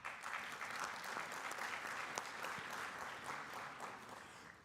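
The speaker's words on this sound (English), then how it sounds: "Nobody gets applause like George" Audience applause fills a hall at a journalism school symposium, steady sustained clapping from a crowd with one or two sharper claps standing out, no voices on top.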